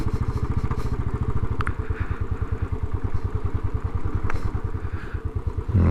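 A 2018 Royal Enfield Classic 500 single-cylinder motorcycle idles close by with a steady, loud, even thump-thump beat that holds throughout, joined by a couple of brief faint clicks.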